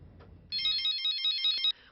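A mobile phone plays a short electronic ringtone, a bright, rapidly trilling pattern that lasts just over a second and sounds close by.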